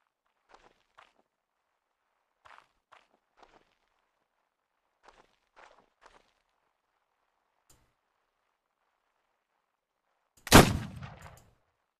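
A single loud musket shot from the pirate game Caribbean! rings out near the end after a long quiet stretch broken only by faint soft clicks and footsteps.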